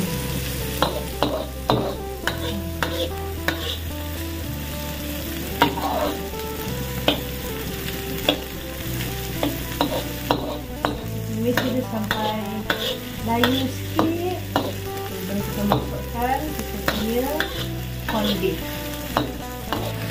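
A large onion stir-fried in a pan until wilted, with a steady sizzle under frequent scraping and clattering strokes of a spatula throughout, close and fairly loud, with no talking.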